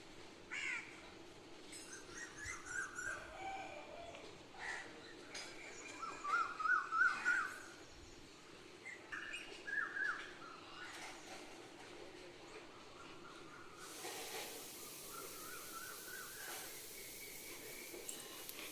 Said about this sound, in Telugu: ఈ కోయిల అరుపు, కోడి కూత, ఇంకా వచ్చేసి కాకులు చాలా అయితే మంచి మ్యూజిక్ అయితే ఇస్తున్నాయి.